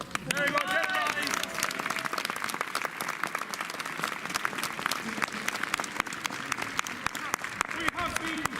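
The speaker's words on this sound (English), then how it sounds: "I'm going to ask for your applause as I ask the dead to arise" An outdoor audience at a Norman castle reenactment event at Caerphilly Castle, Wales, applauds loudly and continuously, a dense sustained roar of clapping with some crowd noise mixed in throughout.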